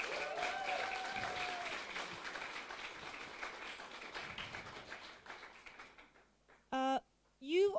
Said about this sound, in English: I would like to ask you for a quick round of applause for our lovely volunteers